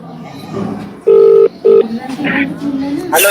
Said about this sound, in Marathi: एक फोन लावा लागला लागला फोन